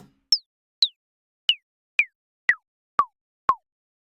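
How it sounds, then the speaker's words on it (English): Seven short synth blips from an Algoritm synthesizer ring out one at a time at a steady pace, each sliding quickly down in pitch, and each starts lower than the last. "it sounds like a coin dropping or a really weak alien gun"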